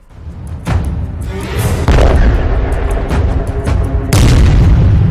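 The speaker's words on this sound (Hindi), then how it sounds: "गाजा पर इजरायल की बमबारी, हमास के हमलों का करारा जवाब, इजरायल का बारूदी प्रतिशोध" Explosions from Israeli airstrikes on Gaza, a series of heavy booms with deep rumbling tails, several sharp blasts rising out of continuous loud roar.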